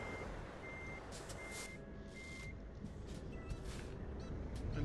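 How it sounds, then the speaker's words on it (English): A truck in a trucking video game backs up, its steady electronic reversing beeps repeating at an even pace over a constant low engine rumble, with no talking. "Maybe better just reversing this back this way and then turn around."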